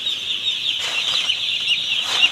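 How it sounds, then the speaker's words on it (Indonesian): A dense chorus of high, shrill peeping from newly arrived broiler chicks, about 39,500 in a poultry house, fills the clip continuously, loud and close, with many overlapping calls and no talking. "bibit ayam"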